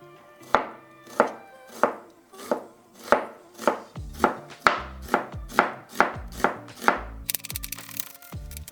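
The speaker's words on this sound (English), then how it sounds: "So I'm going to start off by thinly slicing my onions into half moons." Knife slicing onions thinly into half moons on a cutting board for a Tuscan recipe, a steady series of about a dozen crisp, close chops at an even rhythm, ending in a brief rustle.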